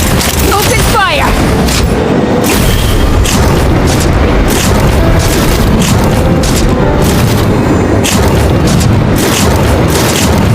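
Cannon fire explosions in the Genshin Impact game, a continuous loud barrage of booms and blasts with dense rumbling, heavily layered with game music and effects, while voices speak over it.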